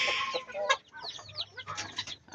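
Chickens cluck near a laying hen, with a run of short close clucks and squawks in an uneven rhythm over a quiet background.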